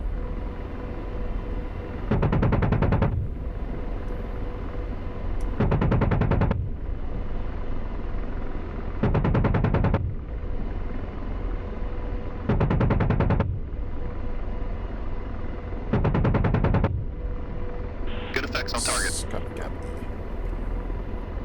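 Gun of an AH-64D Apache firing in DCS World, five loud rapid bursts of rounds spaced a few seconds apart over a steady rotor and engine drone.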